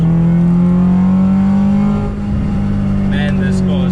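A Honda Civic with a B20 VTEC engine revving hard while accelerating, heard from inside the car: a loud, steady high-rpm engine drone with a slight dip midway, and a voice speaking briefly over it.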